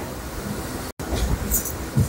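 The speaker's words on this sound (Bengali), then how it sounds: "শিয়ালদা স্টেশন থেকে ট্রেনটা ছাড়লো 8 নম্বর প্ল্যাটফর্ম থেকে।" A Sealdah to Dankuni local train pulling out of Sealdah station produces a steady, dense rumble and rattle, loud and close, with a brief cutout partway through.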